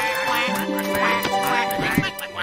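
Cartoon ducks from Super Wings quack several times in quick succession, mixed with a steady backing score and other animated sound effects, fairly loud and close.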